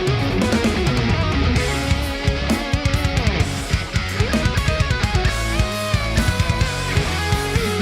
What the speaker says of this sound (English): It's a pretty straight up saturated guitar sound